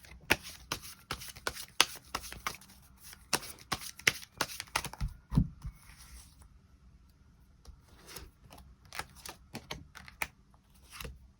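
Tarot cards being shuffled and drawn up close, with quick riffling flicks and taps in irregular bursts, then quieter scattered card slaps, with no talking.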